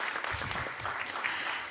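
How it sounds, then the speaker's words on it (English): A brief round of applause at a county school district board meeting, steady clapping from a modest crowd in a meeting room, lasting under two seconds. "So another round of applause."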